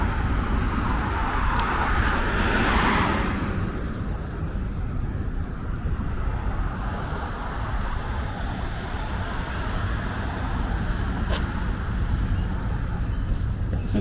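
Cars come off a highway onto foggy South Brooklyn streets in New York, a steady wash of traffic noise and rushing tyres, with one vehicle swelling louder as it passes close early on, and wind buffeting the microphone.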